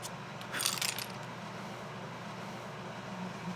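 Small loose wooden music box pieces tumble and clatter in a brief, bright rattle lasting about half a second, then steady background hiss continues for the rest of the clip.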